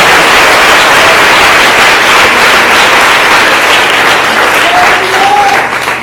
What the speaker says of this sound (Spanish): Ese aplauso al Señor Jesucristo.